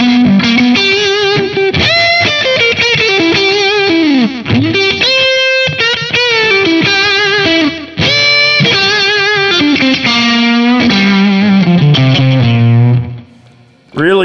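Electric guitar played through a Wampler Black '65 vintage overdrive pedal, with a touch of added reverb, giving warm, driven sustained chords and lead lines that ring out continuously at a loud, close level before a brief dip near the end.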